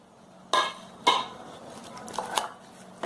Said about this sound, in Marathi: आता झाकण काढायचं.